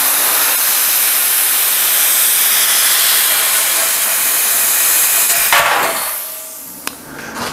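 Plasma cutter slicing a round hole in a steel fuel tank guided by a pipe template, a loud continuous hissing roar for several seconds that cuts off abruptly, followed by a faint clank.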